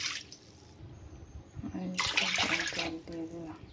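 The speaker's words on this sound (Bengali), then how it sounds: "জল দিয়ে দিলাম আর তার মধ্যে আগার আগার পাউডার আমি 1 চামচ দিয়ে দিলাম" Water is poured from a cup into a pan set on the stove for pudding, a short splashing gush in two bursts with background noise between.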